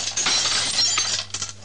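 Glasses shatter, with bright crashing and clinking of breaking glass lasting over a second and a few scattered tinkles at the end, heard close with no talk.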